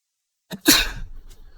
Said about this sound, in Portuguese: Desculpem aí o espirro.